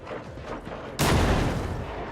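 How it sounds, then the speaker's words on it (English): A frag grenade blows up in a Warhammer 40k video game, one sudden loud blast that cuts in abruptly and rolls into a broad, rumbling decay after a stretch of low background noise. "Frag grenade."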